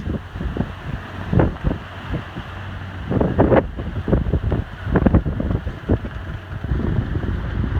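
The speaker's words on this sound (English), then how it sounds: "The waves are coming up from the stern." Wind rushes steadily around a sailing boat at sea off Tasmania at dawn, with waves rolling up from the stern and slapping against the hull in irregular close thumps and splashes under constant buffeting microphone noise.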